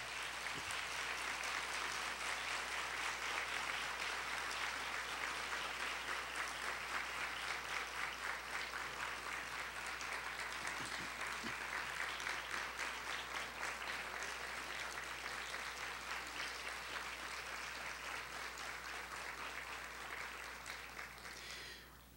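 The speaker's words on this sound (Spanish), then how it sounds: "más que merecido el aplauso para el doctor Rafael Molina Morillo" Sustained applause from a lecture audience honoring Dr. Rafael Molina Morillo after his talk on ethics in the media, steady, dense clapping that holds evenly for about twenty seconds at a moderate distance before tapering slightly.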